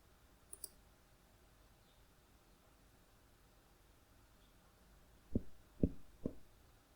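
A computer mouse clicks sharply, once near the start and then three crisp clicks in quick succession near the end, close up over a quiet background hiss.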